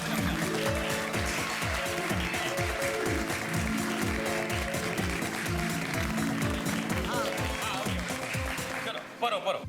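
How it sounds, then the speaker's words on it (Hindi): An audience claps steadily and rhythmically in advance, a continuous patter of hands under a tonal background and voices, fairly loud throughout before cutting off near the end. "मैं तुम्हारा दिल रखने के लिए हम लोग एडवांस में ही तालियां बजा देते हैं"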